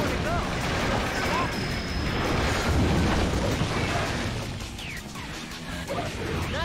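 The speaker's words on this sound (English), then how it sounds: "Laser strikes cause explosions, so stay clear of them too." Explosions from laser strikes in the video game Shadow the Hedgehog. They give dense, loud crashing bursts over a continuous noisy game soundtrack.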